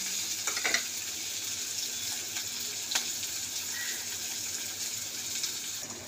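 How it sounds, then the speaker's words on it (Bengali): Onion frying with black cumin seeds in a pan, a continuous soft sizzle with occasional stirring clicks, fairly quiet and close, with no voices. "তো একটু ভাজা হোক পেঁয়াজটা"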